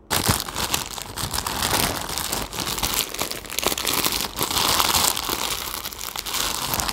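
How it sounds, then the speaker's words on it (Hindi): Plastic packaging on a Meesho dress parcel crinkles and rustles steadily as it is torn open and unboxed, close and fairly loud for the whole stretch with no talking. "नेक्स्ट पार्सल को अनबॉक्स करके देखते हैं"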